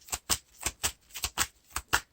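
A deck of Lord of the Rings LCG cards is riffled in a quick, steady rhythm of about ten crisp snapping bursts over two seconds, close and clear, with no one talking.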